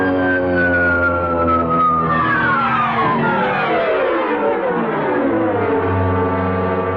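A dive-bombing siren from archival Navy newsreel footage: a loud, continuous wailing tone that slides steadily downward in pitch over several seconds, with a thick rumbling roar underneath and no speech.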